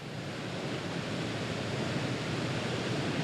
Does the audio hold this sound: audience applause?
no